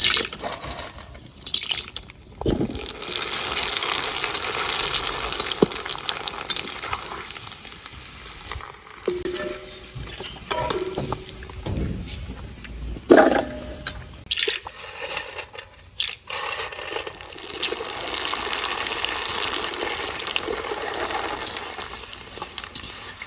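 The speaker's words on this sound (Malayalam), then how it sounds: "അപ്പൊ നമുക്ക് എണ്ണച്ചട്ടിക്ക് ഇട്ടു കൊടുക്കാം" Kuzhalappam fries in hot oil in a pan, giving a steady close sizzle and bubbling hiss with occasional louder splutters and pops throughout, and no talking over it.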